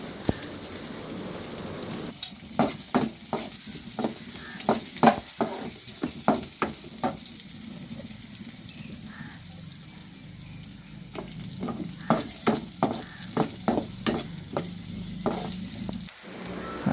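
Shallots, dried red chilies, mustard seeds and curry leaves fry and get stirred in a pan for a drumstick-leaf poriyal, with a constant sizzle under repeated clacking strikes of the stirring spoon, in bursts with a short pause midway.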